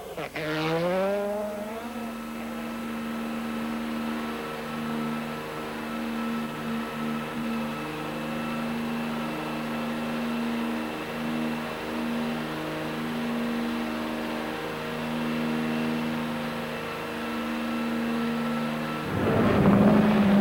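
An Audi Quattro rally car climbs the Pikes Peak hill climb, its turbocharged engine revving hard with rising and falling gear-change pitches, sustained loud and near, fading briefly before a burst of noise at the end.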